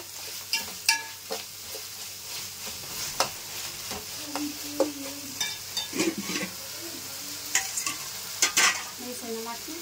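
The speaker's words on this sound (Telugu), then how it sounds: "ఇదంతా కూడా బాగా కలిపేసుకోవాలి." Mutton biryani masala stirred and mixed in a pan, with repeated close scraping and clinking strokes of a spoon over a low sizzle, irregular and busy.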